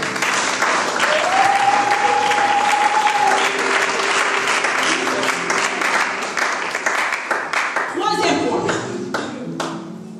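A church congregation claps and cheers in praise at a worship service, with dense, sustained applause filling the room for the full stretch and voices mixed in beneath it.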